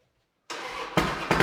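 An Indian Springfield motorcycle engine cranks over with a weak battery after a silent start, giving a brief burst of grinding turnover that surges twice in under a second, close and fairly loud.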